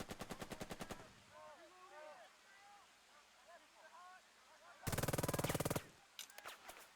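Machine gun fire from the Burden of Command World War II strategy video game comes in two rapid, evenly spaced bursts, the second louder. Faint chirping and quieter ambience fill the gap between them, and a few scattered shots follow.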